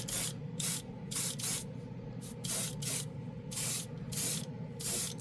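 A spray gun at 20 psi hisses paint in short, repeated bursts, about a dozen even passes with brief pauses between, over a low steady compressor hum.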